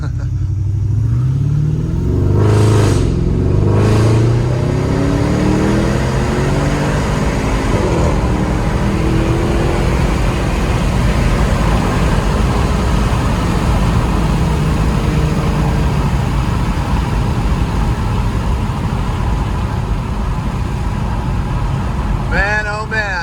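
A modified 2011 Porsche Cayenne Turbo engine, around 600 horsepower, revs and accelerates loudly, roaring steadily close by for the whole stretch, with a voice talking over it partway through.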